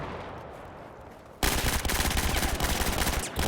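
Dense, sustained gunfire from a firefight in an 8v8 competitive shooter match, erupting suddenly after a quieter stretch of low rumble and then continuing as rapid overlapping automatic bursts, loud and close.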